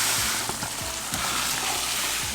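Grits being stirred in a pot with a slotted spoon, giving a steady wet bubbling hiss with soft rhythmic scraping strokes, close and moderately loud, no voices.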